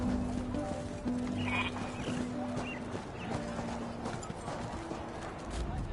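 Restless horses in the video game Elder Scrolls Online, with hoof clip-clops, snorts and shifting stable noises under a busy ambient game soundscape, a voice speaking faintly in the background.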